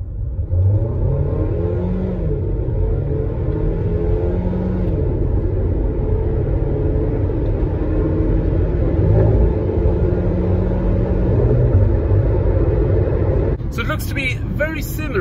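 A Honda Civic turbo diesel and a Hyundai Kona hybrid accelerating hard from standstill to 120 km/h, giving a steady, loud engine drone and road rumble that rises in pitch through the gears, with a brief burst of other noise at the very end.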